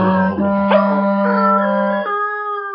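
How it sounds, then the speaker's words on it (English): A dog howls along to a practice piece played on a melodic instrument: one long sustained howl with rising and falling pitch, loud and close, over steady tonal notes that continue briefly after the howl stops. "Hey, Stephanie, can't you play something the dog doesn't know?"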